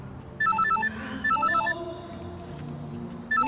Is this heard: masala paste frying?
no